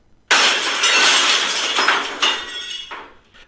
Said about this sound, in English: suddenly they heard a loud crash of glass breaking.